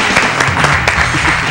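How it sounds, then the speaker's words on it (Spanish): Studio audience claps for a Chilean presidential candidate from the Todos a la Moneda movement on a television program, a loud, dense burst of hand claps with a few sharper peaks, steady throughout and with no talking over it. "Un aplauso para él."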